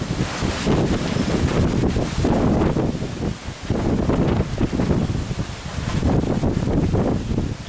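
Strong hurricane wind from Hurricane Hermine at St. Marks, Florida roars continuously and loudly across the microphone in dense, gusting surges, with brief lulls before the buffeting returns.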